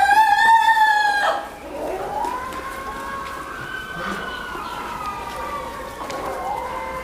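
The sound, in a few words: rooster crowing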